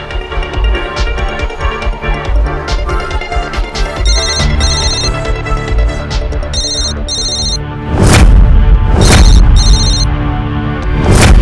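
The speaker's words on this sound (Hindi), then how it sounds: "ये किसका फोन था?" A phone ringtone trills in repeated bursts of a bright chiming melody over dramatic music, followed near the end by heavy booming hits.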